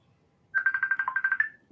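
A computer ringtone goes off indoors: a quick run of bright, evenly pulsed electronic beeps lasting about a second, fairly soft and heard on its own.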